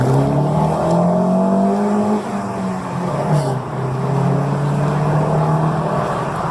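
Car engines, including a police car's, roar and rev loudly together in a street race, pitch rising and falling as the vehicles accelerate, with a brief dip midway before the revving surges again.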